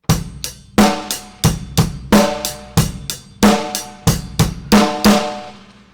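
Close, loud drum kit groove of punchy bass drum kicks and cracking snare strokes in a repeating pattern with a double snare hit, ringing out at the end.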